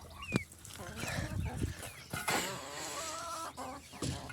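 Roosters and hens clucking and crowing nearby, several birds overlapping in short bursts and calls, with a soft voice murmuring underneath.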